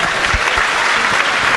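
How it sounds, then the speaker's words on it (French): Loud, dense applause fills a hall at an awards ceremony for a competition in Libreville, Gabon, a brief steady burst of many hands clapping at close range. "J'aimerais qu'on applaudisse très fort"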